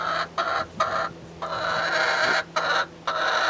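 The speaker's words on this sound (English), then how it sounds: "The chickens dig it all in, chew on it, have fun with it." Backyard chickens clucking around a compost pile, a steady run of close, busy clucks and calls with brief pauses, no talking.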